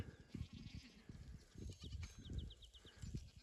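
A herd of goats bleating as they are called into a paddock, with a few low, rough calls over steady outdoor rumble and faint high chirps.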